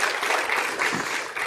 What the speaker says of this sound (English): it's an applause moment